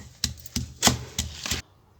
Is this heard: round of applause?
no